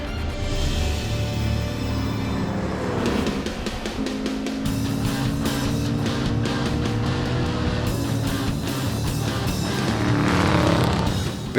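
Race cars, among them a Miata, crowd the track at Ridge Motorsports Park with 72 cars running, giving a continuous loud engine roar with passing cars, shifting tones and some tire squeal, and no talk.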